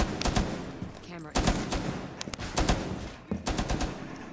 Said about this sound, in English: Watch out. I'm gonna shoot up here.